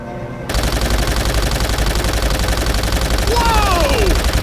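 Sustained machine-gun fire rattles continuously and loudly from a WWII naval battle in Call of Duty: World at War, attacking Japanese merchant ships, with whistling falling tones sweeping through near the end.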